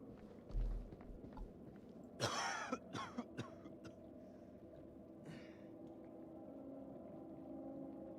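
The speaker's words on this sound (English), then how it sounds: "That's a nasty cough you got there." A single harsh cough bursts out in the video game The Dark Pictures Anthology: House of Ashes, followed by a few smaller throaty coughs and clicks over a low ambient hum.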